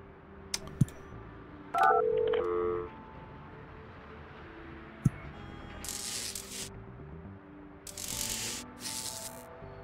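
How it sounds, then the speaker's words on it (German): Telephone sounds in the building-management video game Project Highrise: brief ringing tones and button-like beeps among soft interface clicks and bursts of hiss, heard alone with no talking. "Telefon."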